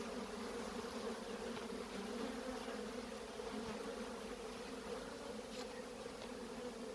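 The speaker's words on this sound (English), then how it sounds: "Look at these bees." Honeybees buzzing at a beekeeper's hives, a faint, steady drone that stays even throughout with no voices.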